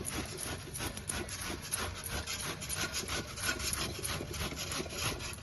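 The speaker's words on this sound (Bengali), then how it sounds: "এবার এই ক্র্যাশার দিয়ে এটাকে সুন্দর করে ঘষে নেব" Peeled ridge gourd crushed and rubbed with a crusher on a plate, producing steady rhythmic gritty scraping strokes, close and moderately quiet, with no voices.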